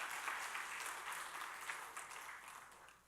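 Worshippers at a Korean church's 42nd anniversary Sunday service give sustained, fairly even applause from a large gathering, heard at moderate distance and slowly fading out.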